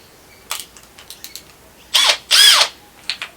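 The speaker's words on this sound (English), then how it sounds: "And now when I drill this hole" A hand drill bores a hole through a drilling jig while building cabinet doors for a bus kitchen: light clicks and ratcheting taps lead into two short, loud bursts of whirring drilling, close by with no speech.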